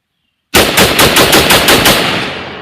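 An M1 Garand rifle fires a rapid string of loud, close shots that blur into one burst, ending with the empty eight-round clip pinging out as the sound rings away.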